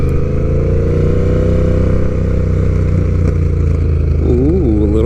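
Honda Rebel 1100 motorcycle with a cheap Shorty GP exhaust roars close and loud while riding, a continuous deep engine drone with a brief rev swell near the end.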